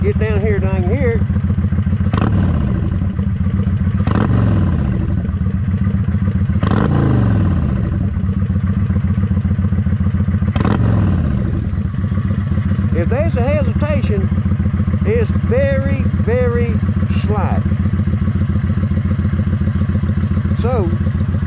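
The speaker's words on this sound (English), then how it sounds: "let's hear that exhaust" A 2007 Kawasaki Vulcan 900 motorcycle with its restrictor plates removed idles with a steady rumbling exhaust, revved up several times in loud blips close by, and a person talks over it at points.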